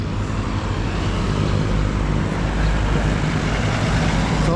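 Many jeepneys crowd a road leading toward Dingalan near Gabaldon, producing a steady, loud, continuous rumble of engines and road traffic, close by and unbroken for the whole stretch, with no voices over it.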